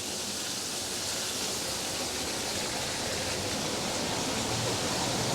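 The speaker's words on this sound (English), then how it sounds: "Look at that waterfall there, isn't it awesome?" A waterfall in the seaside gardens at St Annes-on-the-Sea gives a steady, broadband rush of falling water, constant and fairly faint, with no voices over it.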